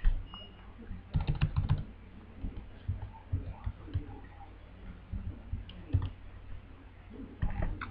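Computer keyboard typing a search, with quick bursts of close key clicks coming in short clusters and pauses, fairly faint against a low background hum.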